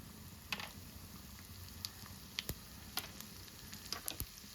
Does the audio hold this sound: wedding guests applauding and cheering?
no